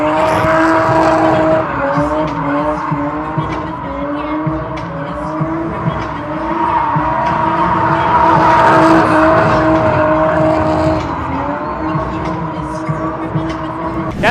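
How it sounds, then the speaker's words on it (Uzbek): Cars drift at a drift show at the SOF Expo in Samarkand, with long, wavering tire squeals over roaring engines that run steadily throughout while people talk in the background. "Keyingi joyimiz shu drift zonamiz bo'ladi. Bu yerda turli xil driftlar bo'ladi."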